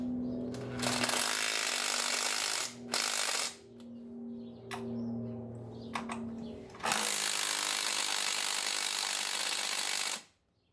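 A Makita Impact Gold impact driver fitted with a tilt socket adapter drives a fastener at an awkward angle, hammering loudly in several bursts with brief pauses between them before a long final run cuts off.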